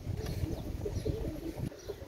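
Pigeons, including Pakistani Teddy breeds, coo softly in a loft, with several low, throaty calls repeating close together over a faint background.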